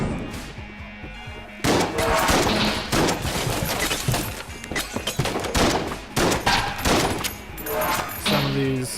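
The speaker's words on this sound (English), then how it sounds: "The shotgun's really only useful for the really weak enemies you can kill in one shot." Rapid, repeated shotgun blasts in the Enter the Gungeon video game. They burst in close, loud clusters after a quieter opening, mixed with game effects and music tones.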